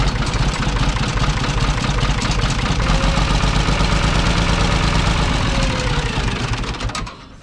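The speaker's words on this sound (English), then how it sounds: "Let's see if the backhoe, or the front end loader rather, functions." A front end loader's diesel engine idles loudly and steadily close by, a knocking mid-low rumble that keeps on until it fades near the end.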